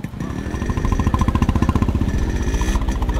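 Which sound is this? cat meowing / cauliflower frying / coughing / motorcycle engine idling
motorcycle engine idling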